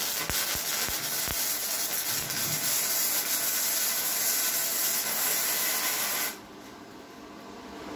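Gasless flux core wire welding produces a steady loud hissing crackle with a few pops, then cuts off abruptly to a quieter background hiss.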